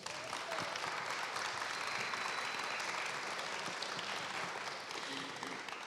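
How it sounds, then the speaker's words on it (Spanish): An audience at a literary talk on writing about the unspeakable gives guest speakers sustained applause, a dense, even patter of many hands, fairly soft and distant, lasting several seconds. "les pido un generoso aplauso"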